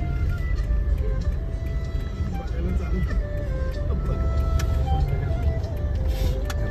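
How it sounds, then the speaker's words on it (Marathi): A car idles and rolls at low speed while being parked near a Hanuman temple in Dapoli, its steady low engine rumble continuous under nearby talk and ambient street noise. "आता गाडी पार्क करतोय मित्रांनो"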